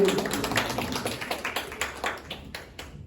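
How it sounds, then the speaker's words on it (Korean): A congregation at a high school Sunday service in a church on Palm Sunday claps in a quick, fairly steady patter that fades over a few seconds. "박수로"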